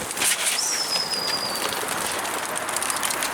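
Pigeons coo softly close by, with a few brief wing-flap bursts early on, against a steady outdoor hiss and no clear voices.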